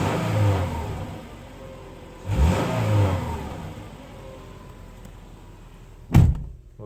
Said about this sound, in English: you can hear the engine just not running very well